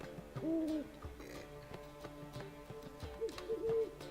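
An owl in The Witcher 3: Wild Hunt gives two soft, quavering hoots a few seconds apart, quiet against a low game ambience of faint clicks and background tones.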